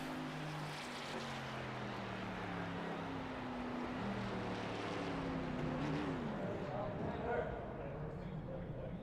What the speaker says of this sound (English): It's got a blowed up engine.